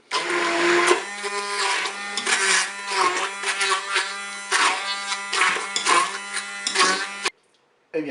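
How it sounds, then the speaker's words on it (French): An immersion blender purees pineapple and apple pieces in a Cookeo cooking pot, giving a loud, high-pitched motor whine that surges and dips in pitch as it works through the fruit for about seven seconds, then cuts off abruptly. "je vais mixer, bien sûr, avec un mixeur plongeant, mes morceaux d'ananas et de pommes"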